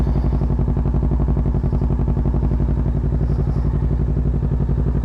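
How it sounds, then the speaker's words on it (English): An electric bike being ridden after charging, with a loud, steady close-up whir and clatter running continuously with no pauses or talk. "Got the bike charged up. Go for a little ride."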